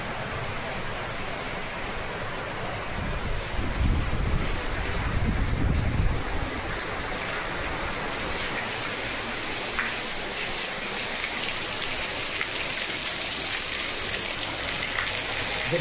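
Heavy rain falls in a steady, dense roar that stays loud and unbroken throughout, swelling slightly for a few seconds early on.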